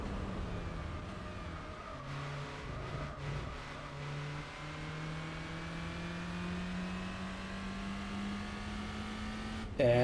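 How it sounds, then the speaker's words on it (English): A race car engine in Gran Turismo 4 holds a steady, strained drone at top speed, its pitch creeping slowly upward with a brief dip partway through, faint and continuous with no talk over it. "the car is already going as fast as it can."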